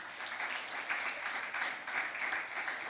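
Steady applause from an audience at an impromptu speaking competition in Antigua, honoring a student speaker after her presentation; dense, even clapping holds for the whole stretch, moderately distant and without pauses.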